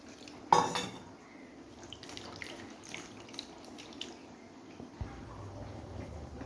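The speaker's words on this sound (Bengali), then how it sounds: "তো মাছগুলো ধোয়া হয়ে গেছে" Cut prawns are rinsed in a bowl, giving faint sloshing water and soft clinks, opening with one sharp knock of the bowl and a brief splash near the end, quiet and close.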